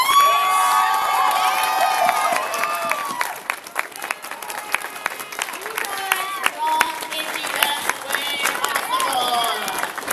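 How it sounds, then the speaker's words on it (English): At a BronyCon fan convention, a crowd applauds and cheers loudly, with continuous clapping mixed with high shouts, whoops and excited voices layered throughout. "Could you stand up for a round of applause, please?"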